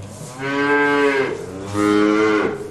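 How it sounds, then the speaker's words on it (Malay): A cow moos twice, two long loud drawn-out lowing calls close by, each rising and then fading, with a short pause between them. "Macam bunyi lembu ya."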